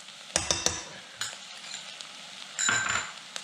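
Garlic goes into a pan of cooked onions for a mushroom soup, with a soft sizzle underneath a few sharp clinks and scrapes of a utensil against the pan, then a brief louder stir near the end.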